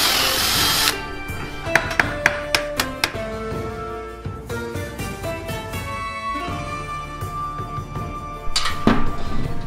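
A power drill boring holes through a clamped visor on a forged medieval-style Mandalorian helmet, with sharp bursts and short whirring runs and some bright ringing metallic tones between them, loud and close.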